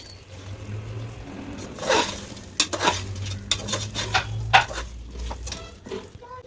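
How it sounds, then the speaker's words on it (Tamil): Fried potatoes are tipped into a pot of beef curry and stirred, with a soft sizzle under clattering spoon-on-pot scrapes and several sharp metallic knocks in the middle, close and moderately loud. "இப்போ நம்ம முதல்ல பொறிச்சு வச்சுருக்க உருளைக்கிழங்கு இதில் சேர்த்துருவோம்"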